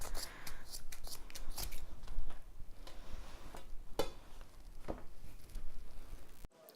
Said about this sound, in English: And here I'm just cutting the back of the leg off